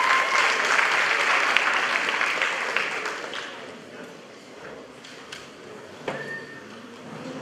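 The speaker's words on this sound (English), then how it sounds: "Can we give him a round of applause" An audience at a school jazz concert claps in a full round of applause that starts strong and slowly thins out, leaving a few scattered claps and faint room noise.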